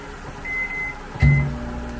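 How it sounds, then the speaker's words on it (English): A microwave oven softening butter hums steadily, with a thin electronic beep followed by a louder beep and a deeper mechanical hum starting up. "Put this butter in the microwave,"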